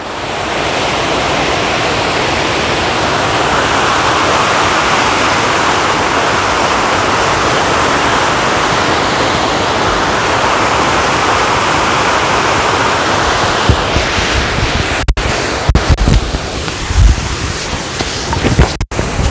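Dickinson Creek rushing along a hiking trail, a loud, close, continuous roar of churning water that holds steady throughout, with a few sharp knocks and handling bumps near the end.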